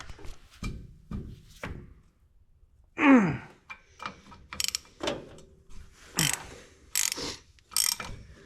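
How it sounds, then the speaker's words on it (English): A hand ratchet wrench loosens bolts on an Allis Chalmers road grader engine, giving close, quick bursts of clicking pawl strokes in irregular groups, with a grunt-like exhale near the start and no speech. "I can't get to those two with the gun, so I have to do that with the ratchet."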